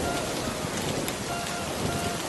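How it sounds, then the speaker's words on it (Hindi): Heavy rain falls steadily without letup in a village farming setting, a dense continuous hiss of drops at moderate level, alone with no talk. "ये बारिश तो रुकने का नाम ही नहीं ले रही है"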